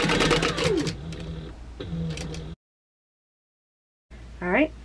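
A sewing machine set to a 4 stitch length runs steadily, stitching around the edge of fabric for a taco wall organizer. It stops abruptly, leaving silence, then a short chirping sound comes at the end.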